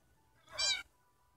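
A cat meows once in the game Minecraft, a short clear mew lasting under half a second, close and alone against near silence.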